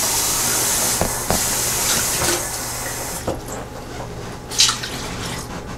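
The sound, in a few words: water running to rinse out a soup can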